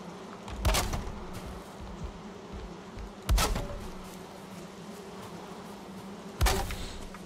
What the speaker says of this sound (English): Bees need more open space!